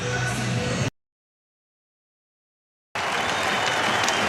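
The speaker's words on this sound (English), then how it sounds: "As the crowd salutes one of the Minnesota Warriors, the veterans hockey team here at Amsoil Arena." Ice hockey crowd at Amsoil Arena, during a UMD Bulldogs game against Omaha, applauding a member of the Minnesota Warriors veterans team. Steady, full-arena clapping is broken by a brief complete dropout in the middle.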